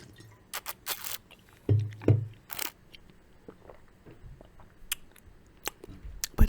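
Close, crisp bites and wet chewing of a homemade sandwich come in scattered bursts, with a few louder crunchy bites in the middle and softer mouth sounds between, with no talking.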